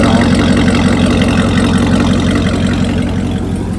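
Cadillac CTS-V idling through its factory exhaust with the muffler removed, a loud deep steady rumble close up with no voices.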